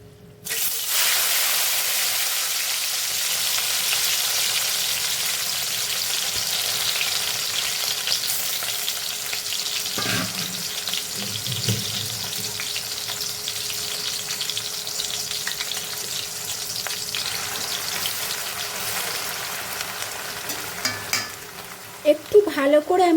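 Half-ground onion paste frying in hot oil in a pan, a steady loud sizzle that runs without pause, with a few scrapes and clinks of stirring toward the end.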